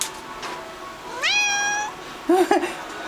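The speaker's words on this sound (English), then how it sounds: "She is an adoptable cat from the Animal Rescue League of New Hampshire." An adoptable shelter cat gives a clear rising meow close by, followed by a shorter, wavering second meow over quiet room noise.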